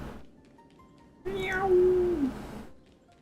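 A single drawn-out cat meow, rising then falling, loud and close over a quiet background, with a streamer's game session setting.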